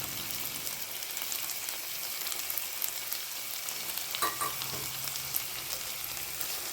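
Green peppers frying in a pan, a steady crackling sizzle with dense popping spatters, close and continuous, with a brief stir or clink partway through.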